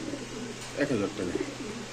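Racing pigeons coo in low, throaty bursts close by, a few rolling calls over a faint background hum.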